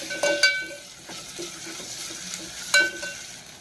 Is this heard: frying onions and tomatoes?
yes